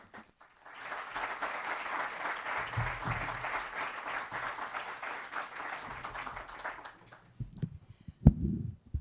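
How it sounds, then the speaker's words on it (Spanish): Audience applause for the presenter at a novel launch event, a sustained wash of clapping lasting several seconds that stops abruptly, followed by a few bumps and handling noises. "tengo el placer de ceder la palabra a la presentadora, a la inductora, como decía antes, para quien les pido un fuerte aplauso"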